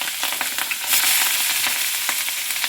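Onion dropped into hot oil already holding mustard seeds and green chilli, sizzling loudly: a bright, hissing fry with scattered crackles and pops, swelling into a denser burst partway through.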